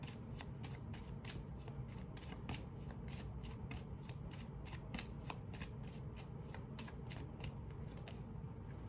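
Tarot cards are shuffled by hand in a quick, regular series of soft riffling flutters, close and fairly quiet, with no talk over them.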